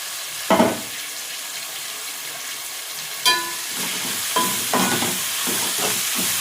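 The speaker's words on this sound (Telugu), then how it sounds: "పుదీనా, కొత్తిమీర, కలెమాకు మొత్తం అన్నీ వేసేస్తున్నా. మంచిగా వేగితే బాగుంటుంది." Mint, coriander and curry leaves fry in a pan, a soft sizzle broken by a few sharp bursts as ingredients hit the hot oil.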